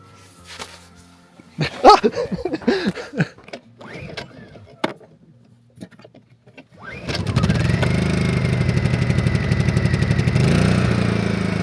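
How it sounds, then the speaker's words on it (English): A portable generator at a southern Utah campsite starts up after a stretch of voices and clatter, then runs as a loud, steady mechanical drone that fills the rest of the clip. "We brought the generator as a backup, and of course, the EcoFlow died. So we're gonna power it up"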